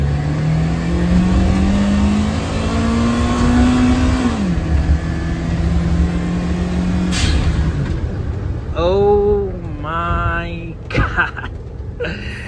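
A car engine revs up hard with a rising drone, shifts, then climbs again in strained bursts, loud and close, with a voice briefly heard.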